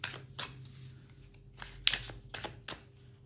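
A card is drawn from a deck during a tarot-style reading, giving a few soft papery slides and flicks spread over several seconds, fairly close and quiet, with no talking.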